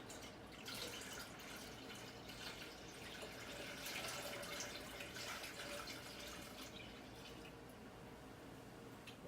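Sweet red wine poured into a container for sangria, a faint continuous liquid trickle and splash that runs steadily for several seconds.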